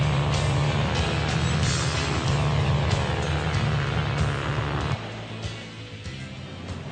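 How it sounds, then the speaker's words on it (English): Cars travel along a road, a steady engine and tyre drone with a low hum that drops in level partway through as a vehicle passes. "cars travel across roads and highways, over bridges, and through tunnels"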